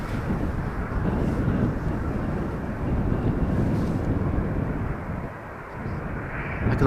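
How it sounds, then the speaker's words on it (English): Turkish Airlines Boeing 737 taxiing at Amsterdam Schiphol Airport, a steady broad jet-engine roar that dips briefly near the end, with some wind buffeting the microphone. "the Anadolu jet / Turkish flight to Istanbul, the Boeing 737,"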